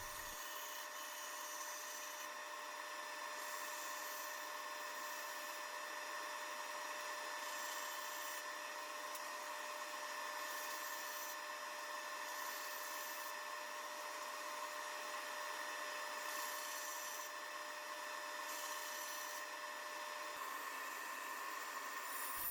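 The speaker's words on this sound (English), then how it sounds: "I'm taking my time cutting these pieces out. I've used the bandsaw before, but never on hardwood" A bandsaw fitted with a 3/4 inch blade runs steadily through hardwood pieces for an Adirondack chair, its faint whining drone holding throughout with gentle periodic swells in the cut.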